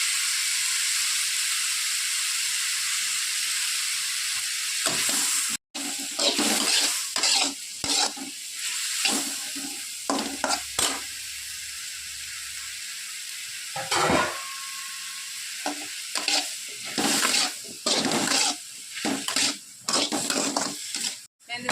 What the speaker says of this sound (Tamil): இப்போ தக்காளியை சேர்த்துக்கோங்க இது நல்லா வதங்கட்டும்